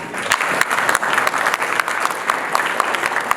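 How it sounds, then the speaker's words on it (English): A conference audience at an East Africa Law Society meeting claps for themselves, a loud, close, dense patter of many hands that keeps up without a break. "Can you please clap for yourselves for being alive and being here today?"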